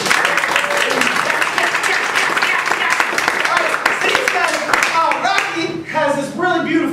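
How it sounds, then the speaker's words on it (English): An audience at a live stage show breaks into loud applause, with dense clapping and crowd noise that carries on steadily and thins slightly toward the end, with a voice heard over it. "Give them a round of applause."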